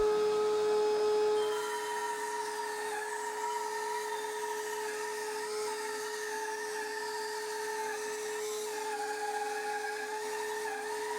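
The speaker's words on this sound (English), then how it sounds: "I cut it to length on the miter saw and then cut off the curved sides" A miter saw cuts a length of reclaimed oak handrail. The sawing is heard as a sustained, even motor whine with a droning tone, moderately loud and continuous throughout with no voices.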